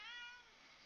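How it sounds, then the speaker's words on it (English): A cat meows once near a 3D printer, a fairly faint, close, rising-then-falling cry that fades after about half a second, with no talking. "This cat wants to approach the printer. I am not allowing him. He is irritated."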